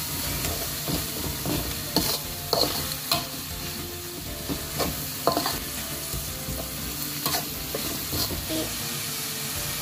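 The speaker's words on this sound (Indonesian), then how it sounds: "Kita tumis sampai layu" Ingredients stir-fry in a hot pan until wilted while cooking fish, a steady loud sizzle and hiss running throughout with intermittent scraping stirs of a utensil, close and continuous with no voices.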